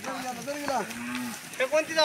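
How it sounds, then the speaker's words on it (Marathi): A native village cow, part of a herd walking with horses toward a mountain pass, lets out a loud, long, close moo that rises and falls, followed by a second shorter call. "आणि आता घोड्यांच्या पुढं गाय झाल्या ती, म्हणजे त्या घोड्यांच्या पुढं चालणार आहे ती."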